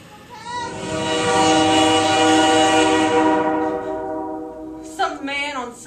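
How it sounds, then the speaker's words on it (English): A train sounds a loud, sustained warning horn held for about four seconds, a rich steady blast that fades toward the end, followed by a brief higher burst of sound. "Some man on some train trying to avoid running somebody over."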